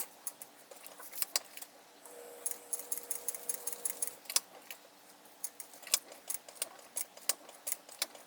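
A sewing machine stitches across a seam on a foam-padded AnnaBelle shoulder bag, its needle clattering in quick bursts of rapid ticking with short pauses between runs, close and fairly quiet, with no talking.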